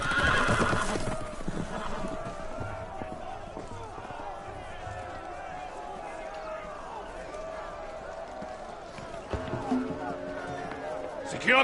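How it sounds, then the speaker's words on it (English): In the Game of Thrones video game, loose horses whinny and clatter about in a panicked scene, with loud neighing up front, then hoofbeats and commotion under game sound, and a fresh burst of noise near the end. "The horses! They're loose!"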